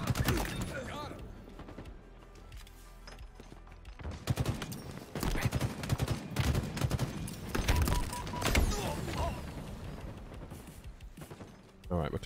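Rapid gunfire in Halo Infinite multiplayer, with repeated bursts and fusillades of shots that are dense and loud, rising in intensity midway and returning at the end, under occasional talk.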